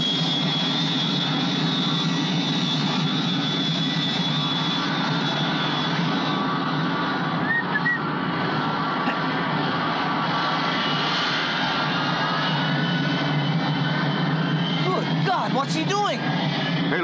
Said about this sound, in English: 643, ready for takeoff.